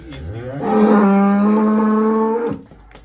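A cow gives one long, loud, drawn-out moo lasting about two seconds, close by, then the sound drops to quiet background.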